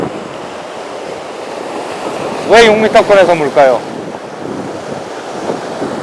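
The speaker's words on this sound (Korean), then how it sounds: "왔다, 파도 세다." Strong sea waves surge and wash against coastal rocks on a fishing shore, a continuous rough roar of surf and wind that runs throughout, with someone speaking briefly partway through.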